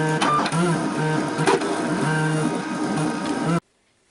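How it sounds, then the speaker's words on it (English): A vinyl cutter slices out a custom sign, giving a close, steady mechanical whir with rhythmic stepping tones that runs loud and even before stopping abruptly. "the cutter's now going to cut this out for us"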